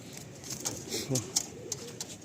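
Madrasi pigeons kept in a home loft coo in soft, close, repeated bursts over a low murmur, brief and fairly quiet.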